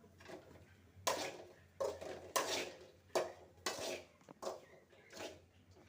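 Idli and egg are stir-fried in a pan, with a spatula scraping and clinking against metal in uneven strokes about once a second, faint and close over a low background hum.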